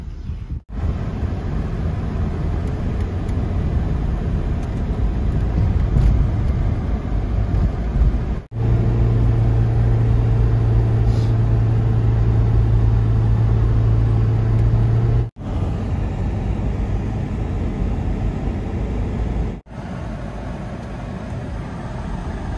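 Taxi car driving in Tbilisi, Georgia, recorded from inside as a loud, steady engine and road drone, rising into a sustained hum mid-way, with a few abrupt breaks and no talking.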